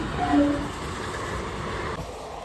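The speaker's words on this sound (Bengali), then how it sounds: "এই ট্রেন চলে এসছে" A train rumbles past a lowered railway gate, a steady broad roar of wheels and carriages close by that eases slightly toward the end.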